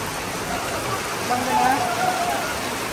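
Heavy rain pours down in Baguio, a steady broadband hiss of drops drumming on surfaces, swelling slightly louder midway, close and continuous with no clear talk over it.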